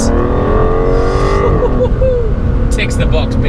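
An Aston Martin DBS Superleggera supercar drives along an open, free-flowing road, its engine note droning loud and close, then easing off as the tone falls away.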